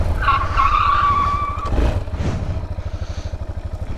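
Motorcycle tires screech in a sustained skid as the bike drifts, loud and close over a steady throbbing engine that keeps pulsing after the squeal fades, from a first stunt-riding practice session on a Yamaha XT660.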